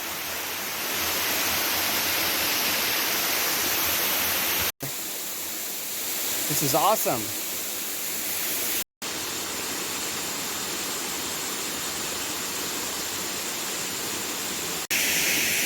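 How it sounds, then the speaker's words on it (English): Broadband roar of the big Cacalotenango waterfall in Guerrero, Mexico, steady and loud across the whole span, broken by two brief cuts; a voice speaks briefly midway over the constant rushing water. "So these are the waterfalls, the big waterfalls."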